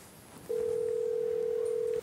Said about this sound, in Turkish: İnşallah benim telefonum açar Gül Hanım